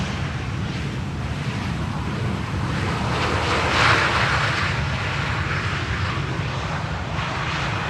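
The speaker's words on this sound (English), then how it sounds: "Yeah, KLM Flight 741 is definitely going to the center runway by the looks of it." KLM Flight 741 airliner arriving at Schiphol, a broad, steady roar of jet engines with wind noise, loud throughout and swelling slightly in the middle as it passes.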